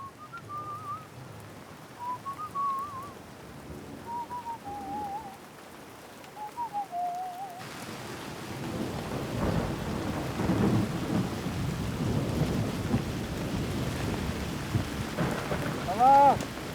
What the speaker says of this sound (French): Nuage d'orage.